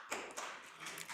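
Short burst of applause from attendees at a town council meeting, quick patter of claps lasting about a second, fairly faint.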